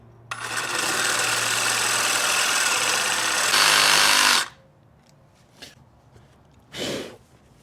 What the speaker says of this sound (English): I like to just use a little Sawzall.